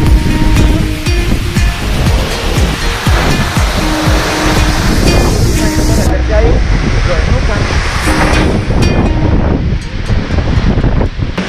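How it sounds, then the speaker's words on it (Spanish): Roaring water and hard gusting wind at Cascada La Candelaria, a waterfall in Colombia, fill the scene with a loud, constant broadband rush from start to finish, with no voices heard. "pega muy duro el viento y el agua"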